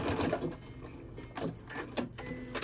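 Sewing machine back stitching along a towel seam, several short mechanical whirring bursts separated by brief pauses, close and moderately loud with no talk.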